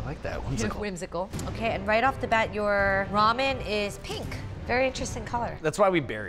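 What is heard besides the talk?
None of the usual background noises is heard.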